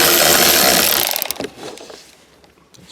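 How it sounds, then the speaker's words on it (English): A power tool drives out the four 10mm bolts holding a car's shifter to the floor during a Megashifter install in a third-generation car. A loud, steady buzzing whir runs for about a second, then cuts off and leaves faint clatter. "now you have 4 10mm bolts here that we're going to take out"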